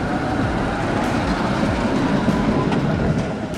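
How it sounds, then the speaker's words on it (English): A tram passes close by on a city street, a loud, steady rumble with rail rattle throughout. "Let's watch the tram go by."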